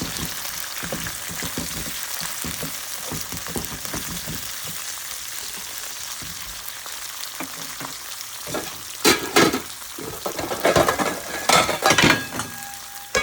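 Vegetables frying in a pan hiss steadily while a spatula scrapes and clatters against the metal, the stirring growing louder and busier toward the end; no voices.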